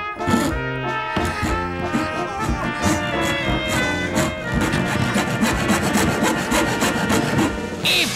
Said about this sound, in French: à l'aide de cette simple scie, je vais sectionner en 3 parties Roger, le vieux, le retraité.